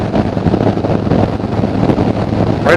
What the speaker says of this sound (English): The wind is buffeting as normal, hitting you right in the chest.